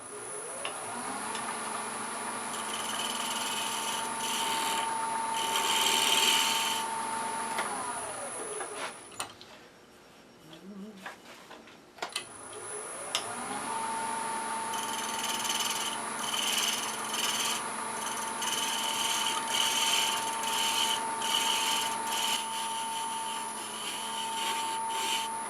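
Sandpaper rubs against a spinning wooden garlic keeper box on a lathe, giving a steady hissing scrape over the motor's hum, which winds down and pauses briefly before the lathe spins up again and sanding resumes.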